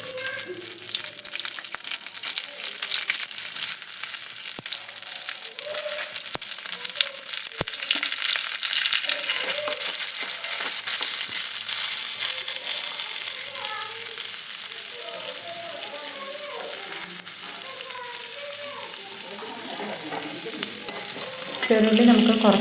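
Chopped shallots sautéing in a pan for a Kerala tomato curry, a steady close sizzle with soft stirring scrapes running throughout, no voices.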